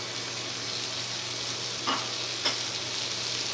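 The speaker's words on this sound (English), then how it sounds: "now that the onions are about a third of the way cooked, we're going to add our mushrooms. We're going to add our peppers." Onions, mushrooms and peppers sizzle steadily in a pan, a close, even frying hiss with two short clinks of stirring toward the end.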